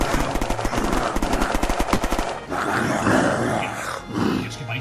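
Rapid bursts of automatic gunfire rattle loudly, then give way to rumbling explosive noise and scattered shots from the game Unturned.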